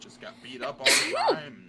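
A single sharp sneeze bursts out close by, following a man's brief speech in an indoor conversation.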